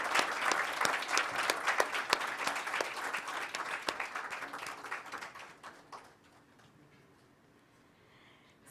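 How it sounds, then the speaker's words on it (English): An audience at a jobs-programme launch event applauds, with brisk, fairly close clapping for about six seconds that then thins out and dies away to quiet room tone. "And let's give them a big round of applause."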